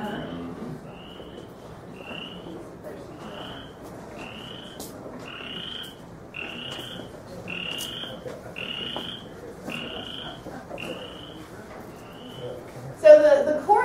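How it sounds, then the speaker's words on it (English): Chorus frogs calling on the Konza Prairie, near temporary pools and wallows, a steady series of about a dozen short rising trills repeating roughly once a second over low background noise, with a louder burst of sound at the end. "So the chorus frogs, which breed in temporary pools, they really use the wallows a lot."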